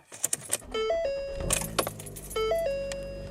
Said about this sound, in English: I'm going to hold it for about 5 seconds and then turn the car on.